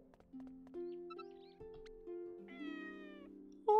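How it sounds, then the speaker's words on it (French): Cartoonish cats meow repeatedly in the Inazuma Eleven Go Galaxy video game, a series of sustained, rising and falling tonal mews over a quiet game background, closing with a brief sharp chime. "Oh, des chats."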